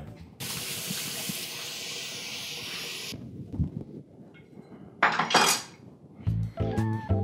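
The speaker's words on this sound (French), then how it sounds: "Maintenant, tu laves tes mains." Tap water runs steadily into a kitchen sink while hands are washed, a broad hiss lasting a few seconds, followed by clinks of dishes and utensils, with no talking.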